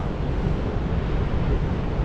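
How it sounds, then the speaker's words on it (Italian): Big ocean waves breaking along a Spanish shoreline, heard as a loud, continuous broadband roar of surf mixed with wind buffeting the microphone, steady and without speech. "Ci sono delle onde pazzesche."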